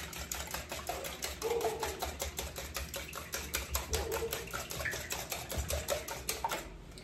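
Custard mixture with a pinch of kosher salt being whisked in a bowl for croissant French toast, a fast steady run of close, light metallic clicks and scrapes going on without a break.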